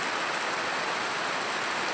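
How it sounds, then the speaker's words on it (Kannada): Rain falls steadily on a village, a continuous, even hiss with no breaks and no voices. "ನೋಡಿ ನಮ್ಮ ಊರಲ್ಲಿ ಹೇಗೆ ಮಳೆ ಬರ್ತಾ ಇದೆ ಅಂತ."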